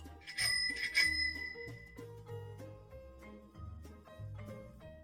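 A bicycle bell rings twice in quick bright dings near the start, clear and close, over soft background music.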